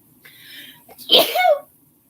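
A single close sneeze with a short breathy intake before it and a sharp burst, ending in a brief voiced trail.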